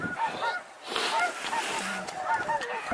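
Snow geese honk in flight, a flock of overlapping nasal calls at moderate distance sounding in rapid, uneven bursts against a faint outdoor backdrop.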